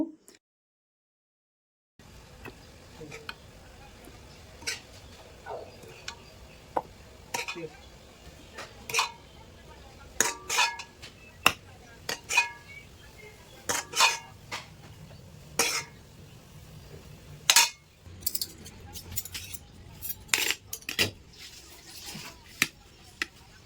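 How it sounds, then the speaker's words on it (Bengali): Puffed rice and cooked chickpeas being served onto three plates, with a string of sharp clinks and scrapes of a spoon against plates and dishes at close range over a soft background hiss. "এখানে কিছু মুড়ি বের করে নিছি, আর 3 প্লেটে এখন বেড়ে নেব"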